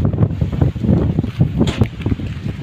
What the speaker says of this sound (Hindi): बहुत ही तेज तरार हवा चल रहा है